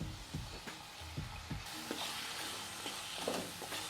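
Tomatoes go into a sautéing spiced pea and potato curry, a Gujarati wedding-style vatana bataka shaak, with a steady close sizzle and frying crackle punctuated by a few stirring scrapes and clinks.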